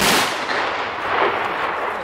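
A loud, close honor guard rifle volley at a Polish Independence Day ceremony in Piła, one sharp simultaneous blast with a long rolling echo decaying over two seconds.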